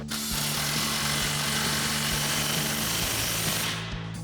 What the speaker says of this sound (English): first we'll get our crossover clamp tightened down.